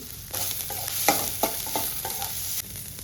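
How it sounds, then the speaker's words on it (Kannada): Cumin, curry leaves, ginger, green chilli and onion hit hot oil in a pan, a close sizzling hiss that flares several times as each ingredient is added and stirred, then cuts off abruptly. "ಸ್ವಲ್ಪ ಎಣ್ಣೆ ಕಾದ್ಮೇಲೆ ಸ್ವಲ್ಪ ಜೀರಿಗೆ, ಸ್ವಲ್ಪ ಕರಿಬೇವಿನ ಸೊಪ್ಪು, ನಾವು ತೊಗೊಂಡಿರೋ ಶುಂಠಿ, ಹಸಿಮೆಣಸಿನ್ಕಾಯಿ, ಈರುಳ್ಳಿ"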